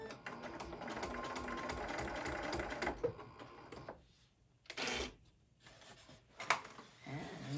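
A sewing machine stitches a bag in bursts, running steadily at first, then stopping and starting in short runs with quiet gaps between.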